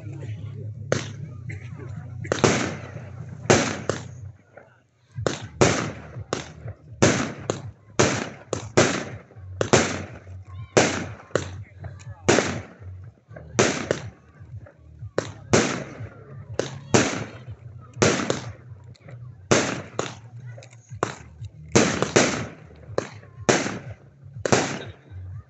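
A 25-shot, 20 mm firework cake fires sharp shots one after another, about two dozen loud cracks with brief gaps, ending in a quicker finale cluster.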